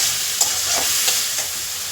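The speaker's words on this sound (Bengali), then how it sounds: "সামান্য একটু জল দেবো যাতে না মশলাটা জ্বলে যায় তো খুব ভালো করে মশলাটা কষা করে" Spice paste for a hilsa fish curry with taro, potato and eggplant being fried and stirred in a pan, giving a loud, continuous sizzle broken by several soft scraping strokes of a spoon, and no speech.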